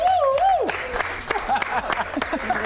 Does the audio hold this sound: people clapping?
yes